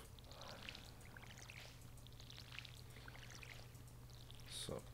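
Watering plants in Stardew Valley gives a soft, faint pouring trickle of water that runs steadily under low game background sound.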